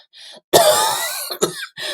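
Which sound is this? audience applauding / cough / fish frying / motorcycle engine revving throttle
cough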